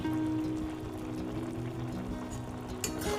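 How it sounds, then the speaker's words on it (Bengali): Lime juice and chopped ginger are poured into a pot of tomato chutney, a steady close liquid pour over a constant low hum, with a brief splash near the end. "এবার দিয়ে দিচ্ছি এটা পাতিলেবুর রস আর আদা কুচি।"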